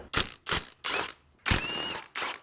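A ratchet wrench works bolts loose on a 2006-2010 Subaru Forester with an EJ25 engine during head gasket removal, heard as several short, close bursts of clicking separated by brief pauses.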